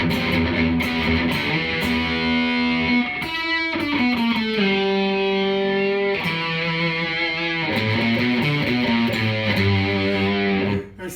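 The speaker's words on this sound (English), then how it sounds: "Let's go over the distortion. We'll start with the Boss Distortion" Heavily distorted electric guitar, an LTD H3 1000 through a Boss DS-1 distortion pedal, playing chords and sustained notes, bright and fuzzy, continuous for the whole stretch with a brief pause midway.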